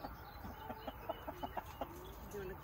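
Several short hen clucks repeat at an uneven pace over a low background hum, fairly close and moderately loud.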